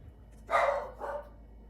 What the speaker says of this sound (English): And my dog is confirming.